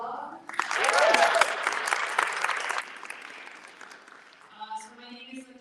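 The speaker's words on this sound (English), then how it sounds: "Another round of applause" An audience at a New York City Council Bangladesh Independence Day celebration breaks into a full round of applause that swells, then thins out and fades under voices and chatter.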